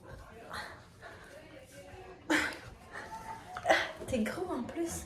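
A puppy yips, whimpers and barks in short bursts indoors, close by, with people talking and laughing over it.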